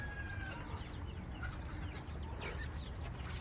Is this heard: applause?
no